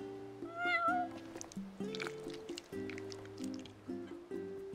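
A cat meows several times in the Final Fantasy XV video game, the cries rising over steady in-game background music without speech.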